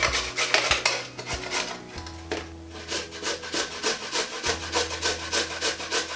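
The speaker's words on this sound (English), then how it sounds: "We're just going to grate them using the coarse grater straight into the bowl." Carrots are grated on a coarse grater into a bowl, a steady rhythmic rasping of quick strokes, close and clear, with a low resonant tone from the bowl underneath.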